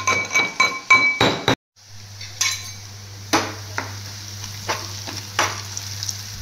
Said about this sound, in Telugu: మా అబ్బాయి దంచుతున్నాడు చక్కగా